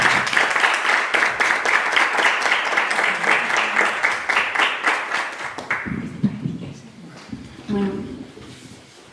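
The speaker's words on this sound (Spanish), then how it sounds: "desde aquí le mandamos un caluroso aplauso a nuestra querida Rosa Romo Jaro y toda nuestra felicitación" An audience at a book presentation claps in a strong, rhythmic, unified applause for several seconds, then it stops abruptly and a person starts talking amid light room noise.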